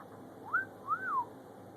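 A pet bird whistles two short rising-and-falling notes close by, with a brief pause between them and a faint steady room hum underneath.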